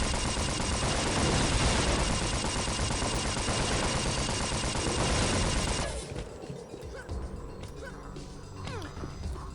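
A Skaarj Trooper fires a pistol in Unreal, dense rapid shots with crashing impacts that stay loud for about six seconds and then drop to quieter scattered noises.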